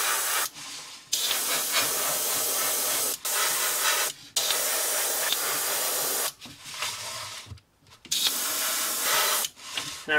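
Magenta spray paint hisses from an aerosol onto a handmade crankbait in several long, steady bursts separated by short pauses, close and loud.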